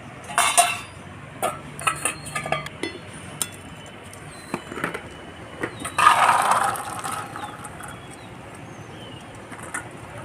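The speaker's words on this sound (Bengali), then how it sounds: "ঢাকনাটা খুলে দেখে নেব ছোলা সেদ্ধটা হয়ে গেছে" A metal pot lid lifted off boiled chickpeas in a home kitchen, a few close clanks and clinks of metal, then a short burst of escaping steam, with birds cooing faintly in the background.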